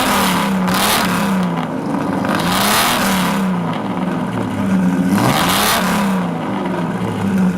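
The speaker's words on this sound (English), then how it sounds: "It sounds like it's qualifying for Le Mans every time you rev it up." A Lamborghini Jarama's engine revs up repeatedly in rising and falling sweeps, loud and close, with three distinct blips that climb sharply then drop back to idle.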